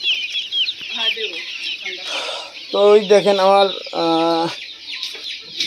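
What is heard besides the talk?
desi chickens clucking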